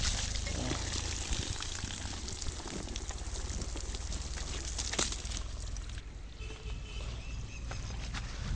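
Water pours and splashes steadily over a motorbike being washed, a continuous hiss of running water from close by, fairly soft, with occasional small knocks and no clear talk.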